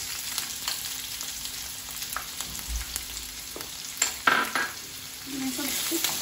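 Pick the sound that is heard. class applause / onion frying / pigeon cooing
onion frying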